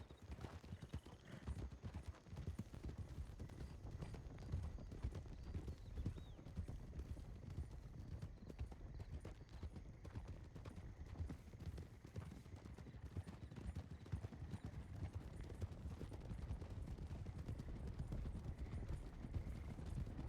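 A horse in the Red Dead RP game canters along with a continuous, rapid drumming of hooves over rough ground, fairly close and steady throughout, with a brief whinny mixed in.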